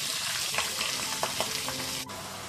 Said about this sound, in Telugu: ఆయిల్ కొంచెం వేడైన తర్వాత ఉల్లిపాయ ముక్కలు, పచ్చిమిరపకాయ ముక్కలు, కరివేపాకు వేసుకోవాలి